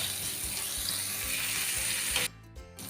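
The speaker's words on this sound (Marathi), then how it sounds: "तर परतून घेऊया एक हात दोन मिनटं आपण परतवून घ्यायचं जेणेकरून आलं लसूण पेस्टचा कच्चापणा जो आहे तो निघून जावा" Ginger-garlic paste sautéing in a pan for samosa filling gives a steady, close, bright sizzle that cuts off sharply near the end, leaving quieter crackles.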